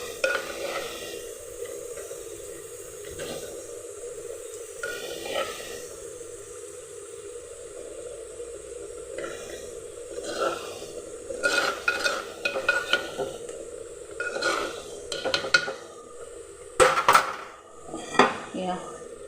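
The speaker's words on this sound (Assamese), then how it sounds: "অকণমান লাৰি দিওঁ তলটো, নহ'লে লাগি যাব" Fish curry is stirred in a clay handi, with a steady sizzle underneath and scraping, clinking utensil strokes that grow louder and more frequent toward the end.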